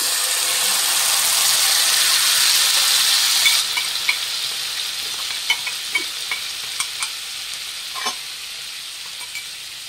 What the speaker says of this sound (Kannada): ಈಗ ನಾವೇನು ಖಾರ ರುಬ್ಬಿಟ್ಟಿದ್ವೋ ಅದನ್ನು ಹಾಕ್ಕೊಳ್ಳಿ